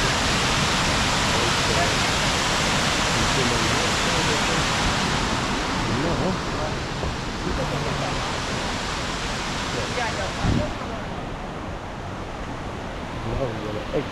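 Waterfall on the Bushkill Trails in Pennsylvania, heard from directly on top of the falls: a loud, steady broadband roar of rushing water that carries on through the whole stretch, easing slightly partway through.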